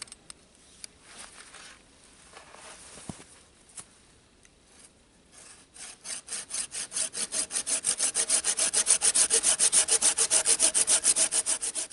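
Steady back-and-forth strokes of a hand saw cutting through a wooden pole, starting with scattered taps and rubbing, then a fast, even sawing rhythm building louder.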